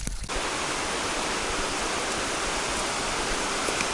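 A mountain stream beside the Appalachian Trail rushes steadily and loudly close by, a dense unbroken roar of flowing water with no voices.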